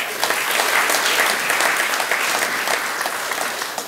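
A church congregation at a Methodist worship service breaks into sustained, even applause, a dense wash of many hands clapping at moderate loudness throughout, with no voices standing out.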